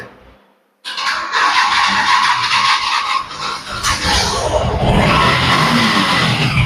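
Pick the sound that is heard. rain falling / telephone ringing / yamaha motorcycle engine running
yamaha motorcycle engine running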